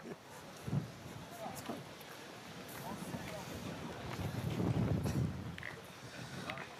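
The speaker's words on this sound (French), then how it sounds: "Belle bourrasque" A strong gust of wind sweeps across an outdoor pétanque semi-final, buffeting the microphone with low, rushing rumble that swells toward the end, with faint voices in the background.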